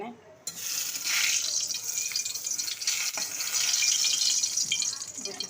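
Steady sizzling of food frying in a pan while curry cooks in a home kitchen, a bright hissing wash that holds throughout with small stirring scrapes and clicks.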